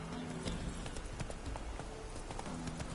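Roach the horse trotting in The Witcher, hooves clip-clopping in a quick steady rhythm over a constant game ambience, with brief tonal sounds from the game mixed in.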